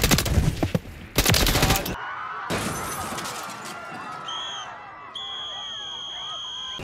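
Rapid bursts of video game gunfire crackle in loud, dense volleys early on, followed by scattered shots and electronic tones as the match continues.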